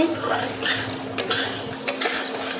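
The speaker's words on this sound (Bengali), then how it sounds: "ভাজা হয়ে যাবে ভালো করে একটু নাড়তে থাকবো আমি কষিয়ে নেব" Spice masala fried in oil for chickpeas is stirred in a pan, a continuous close sizzle broken by a few metallic clinks and scrapes of the spoon against the pan.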